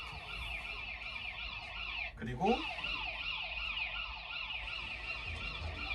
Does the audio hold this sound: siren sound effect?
yes